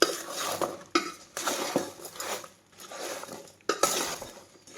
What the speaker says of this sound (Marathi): तर आता मी हे सगळं हलवून असं घेते.